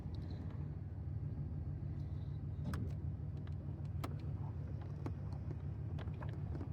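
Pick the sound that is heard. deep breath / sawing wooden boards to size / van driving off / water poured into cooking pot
van driving off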